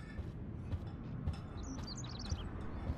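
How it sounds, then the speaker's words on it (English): A small bird in the video game Life is Strange gives a quick burst of high, faint chirps over a low background hum. "look at the poor bird. He seems kind of freaked out."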